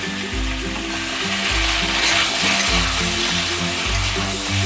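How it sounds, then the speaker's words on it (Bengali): Onion paste sizzles in a pan while being stirred, cooking for a chicken and cabbage dish. A soft, even frying hiss runs under loud, rhythmic background music that dominates the sound. "পেঁয়াজটা দেওয়ার পরও আমি কিছুক্ষণ নাড়িয়ে নিয়েছি"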